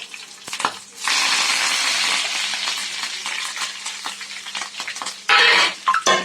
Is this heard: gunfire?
no